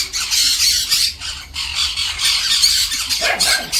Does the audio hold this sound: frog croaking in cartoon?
no